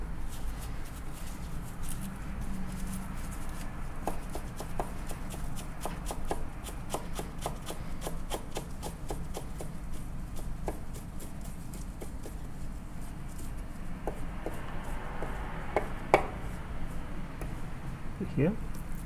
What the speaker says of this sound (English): I'm gonna slice the meat